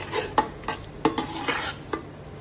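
Spice masala for Afghani eggplant borani stirred and roasted in a pan, with a low sizzle broken by several sharp scrapes and clinks of the spoon against the metal, close up and without speech.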